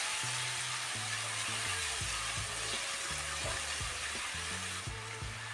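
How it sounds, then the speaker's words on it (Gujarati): Chopped green onions sauté in hot oil, a loud continuous sizzle and hiss that stays steady throughout, with a low hum underneath and no talk. "આ રીતે સમારીને તેને એડ કરી દેશું તેલની અંદર. ડુંગળીને તેલમાં સારી રીતે સાતળી લેશું."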